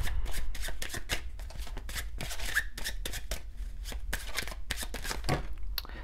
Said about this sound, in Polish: Tasuję karty i wagi.